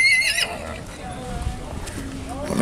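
A horse at a Nabha Mandi horse fair whinnies loudly at the start, followed by quieter neighing and hoof clops amid background voices and crowd noise.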